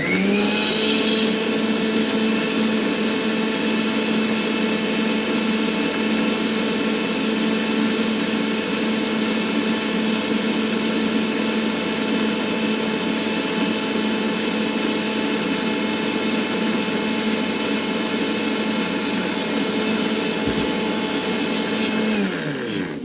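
Electric blender running continuously at a steady high whine while oil is added to make mayonnaise, loud and close with no pauses until it winds down at the very end.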